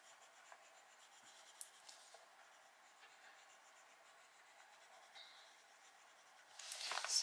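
A white coloured pencil shades softly on paper in a Johanna Basford gemstone colouring page, a faint continuous scratchy rubbing with a few light taps and a louder scrape at the end.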